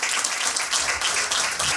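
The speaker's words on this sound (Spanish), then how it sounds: "Den un fuerte aplauso al Señor" A church congregation applauding at an anniversary service, a loud continuous rush of many clapping hands filling the room.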